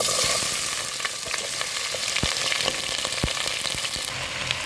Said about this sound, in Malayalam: ഇനി ഞാനൊരു പാൻ വെച്ചിരിക്കുകയാണ് ഓയിൽ ഒഴിച്ചിട്ടുണ്ട് ഇനി നമ്മൾ എടുത്ത് വെച്ചിരിക്കുന്ന വെജിറ്റബിൾ ഓരോന്നായിട്ട് അതിലേക്ക് ഇടാം